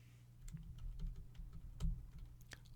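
Typing on a computer keyboard while entering a formula in Excel, a sparse series of soft, irregular key clicks against a quiet room hum.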